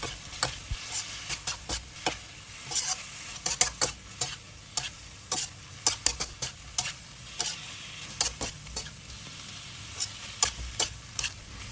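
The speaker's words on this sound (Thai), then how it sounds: "จากนั้นก็ผัดต่อค่ะ ผัดคลุกเคล้านะคะ ให้พอแค่ใบกะเพราสลดลงไปเท่านั้นนะคะ" Spatula scraping and clattering in a hot pan as pork liver is stir-fried with holy basil leaves, steady sizzling under irregular metallic stirring strokes, close and moderately loud with no talking.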